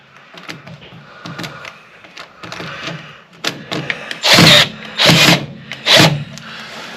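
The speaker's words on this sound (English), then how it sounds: "I'm just going to loosen the screws on the strapping and the hose" A power drill works screws loose on the strapping of a utility trailer, sounding as several short buzzes and clicks, then three longer, louder whirring bursts near the end.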